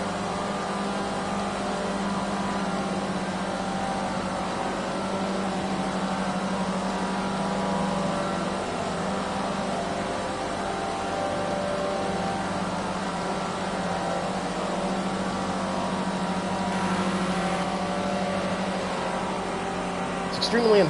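Race car engines from Project Cars 2 drone steadily at a distance under a continuous hum, a low, faint mechanical whine holding nearly unchanged throughout.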